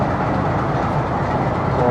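A train rolls through Dina railway station with a continuous, loud, even rumble and rattle of wheels and cars, steady throughout with no breaks.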